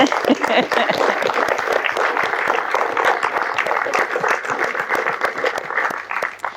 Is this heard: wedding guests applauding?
yes